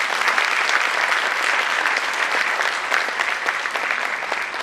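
Audience applause at a college event, a dense, continuous roar of many people clapping at steady loudness, easing slightly near the end, with no distinct speech.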